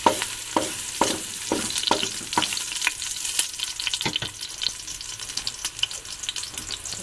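Garlic frying in olive oil for a Filipino pineapple chicken dish: a steady, close crackling sizzle broken by scattered sharp pops and stirring clicks, with no voices.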